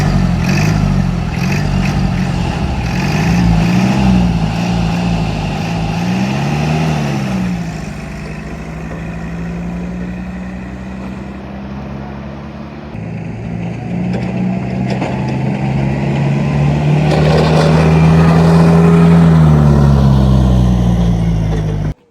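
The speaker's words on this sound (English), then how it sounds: "You're going to see a forklift drag race like never before." Two forklifts race side by side, a 1962 Lancing diesel against a 2006 model, engines droning and revving loudly and close throughout, pitch rising and falling as they accelerate, with voices talking over the motor noise.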